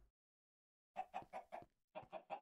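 A Minecraft chicken clucks in a quick series of short, close bursts, about four in a row, then a brief gap and three more. It is clear and alone after a moment of silence.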